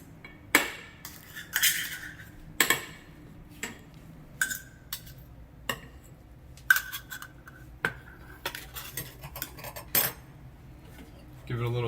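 A utensil stirs coconut oil melting in a pan heated on medium, making scattered metallic clinks and taps against the pan at irregular intervals over a quiet background.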